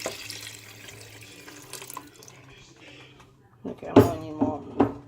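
A kitchen tap runs water into a pot while a meal of baked salmon and yellow rice is cooked, a steady rush that fades out. Then come a few louder splashes and clatters, with voices talking.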